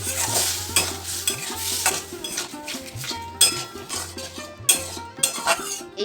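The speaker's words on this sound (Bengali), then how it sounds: "আলুটা দেওয়ার পরেও ভালো করে মশলাটার সাথে এটাকে কষিয়ে নেব।" Potatoes and soybean being stir-fried in spice masala in a pan, with repeated scraping and clinking of a utensil against the pan over a soft sizzle and a low intermittent hum.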